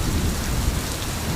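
Heavy rain pours in a dense, continuous hiss and patter, loud and close, with a low rumbling undertone.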